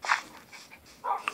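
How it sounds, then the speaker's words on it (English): A puppy gives two or three short, high yips and whimpery barks close by, quick and bright against a quiet room, with a pause in between. "What is the baby dog doing here?"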